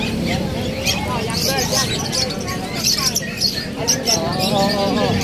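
Many birds chirping and squawking at a crowded pet market in Bulacan, a busy continuous chatter of calls mixed with people talking nearby throughout.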